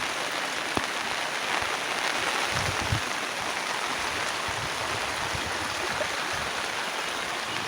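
A river swollen by rain rushes past close to a bridge, giving a constant, broadband roar of fast-flowing water without pause.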